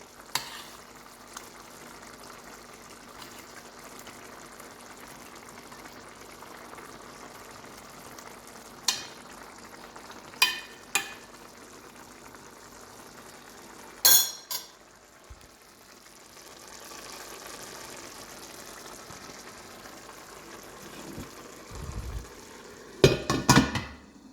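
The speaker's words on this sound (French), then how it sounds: "Voilà, donc la viande hachée cuit quand même relativement vite" Ground-meat kefta meatballs fry in a pan with a steady low sizzle, broken by a few sharp clinks and scrapes of a utensil against the pan.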